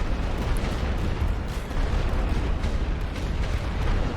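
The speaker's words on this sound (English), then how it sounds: "I'll use my light artillery to prevent their mortars from firing at me" Light artillery firing in The Great War: Western Front, a steady low rumbling barrage of distant booms and bursts with no clear pauses, moderately quiet.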